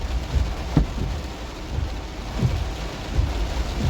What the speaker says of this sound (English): The rain is really heavy now.